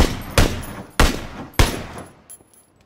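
Three loud gunshots ring out in PlayerUnknown's Battlegrounds, spaced roughly half a second apart, each with a booming echo decaying, followed by a couple of faint distant pops.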